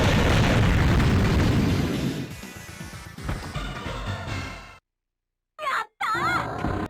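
A missile strike explosion in the Digimon World video game, a loud booming blast with a rumbling tail that fades over a few seconds, followed by silence and brief warbling game effects.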